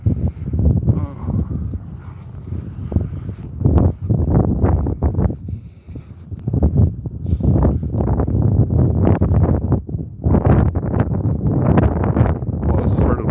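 Strong gusty wind during a snowstorm in North York, Toronto, buffets and roars in uneven surges right against the microphone for the whole stretch.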